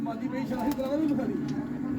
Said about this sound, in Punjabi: ਜਿਹੜੇ ਕਬੂਤਰ ਦਾ ਆਪਾਂ ਹੁਣੇ ਸ਼ੌਂਕ ਕਰਾਇਆ ਨਾ ਉਹਦੇ ਹੀ ਪਰਿਵਾਰ ਦੇ ਵਿੱਚੋਂ ਹੈਗਾ ਇਹ ਕਬੂਤਰ